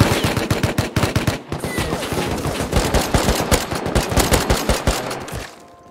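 Rapid gunfire in the survival game Rust, with dense bursts of automatic shots and separate loud cracks that repeat steadily for several seconds and then cut off.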